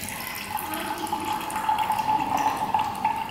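Water drains from a separating funnel through its opened knob in a school science demonstration, a steady trickle with a faint tonal whistle, close and continuous, with no talk.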